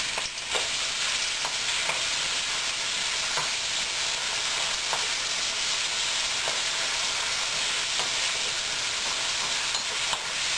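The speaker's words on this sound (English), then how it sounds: "just stirring the onions and the beef until the beef gets slightly brown" Onions and beef frying in a pan for a burdock-root stir fry keep up a loud, continuous sizzle, broken by periodic scraping clicks as the mixture is stirred.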